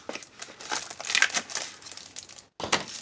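Cardboard box being cut open, a close series of crinkling, scraping rasps in uneven bursts with a brief pause before a final cut.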